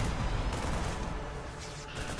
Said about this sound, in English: look at all these Seeker missiles